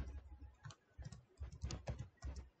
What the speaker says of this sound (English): here I am typing Adobe